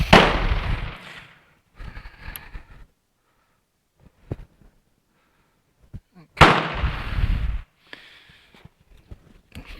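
Two sharp, loud rifle shots from an SKS M59 Yugoslavian rifle several seconds apart, each followed by a rolling outdoor echo, with faint clicks and handling noise between.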